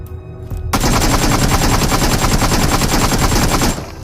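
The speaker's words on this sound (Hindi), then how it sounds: "तो बिफोर अपडेट AKM का रिकॉल का हालत कुछ ऐसा था" AKM assault rifle in BGMI, one long sustained full-auto burst of rapid, evenly spaced shots, loud and close, running for about three seconds with nothing else over it.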